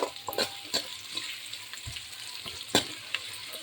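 Tomato and pepper frying in a pan for chitranna rice: a constant soft sizzle with occasional stirring clicks and scrapes of a spoon, close and moderate in volume.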